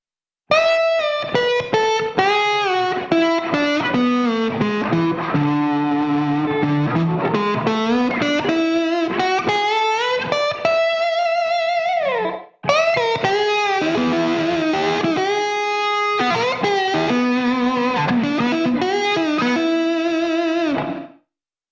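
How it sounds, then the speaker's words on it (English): Electric guitar runs a slide-style scale in standard tuning, notes gliding smoothly up and down with a distorted, effects-laden tone, played alone in two continuous phrases separated by a brief break. "So if you were to play a scale that emulates that slide scale in standard tuning, it would sound like this."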